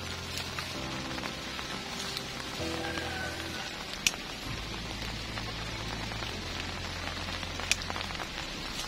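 Steady, dense rain patter on leaves and ground in a forest, a constant wash of drops with a low hum underneath and a couple of sharper knocks.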